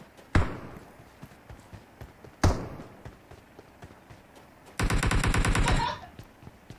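PUBG Mobile gunfire on the Miramar map: two sharp single shots a couple of seconds apart, then a loud rapid automatic burst lasting about a second, with quieter game ambience between.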